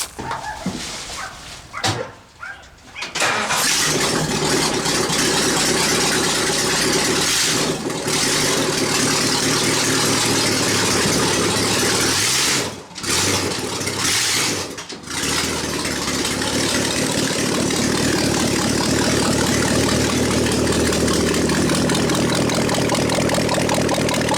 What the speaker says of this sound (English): she's not going to like it when I start it because it does not have any exhaust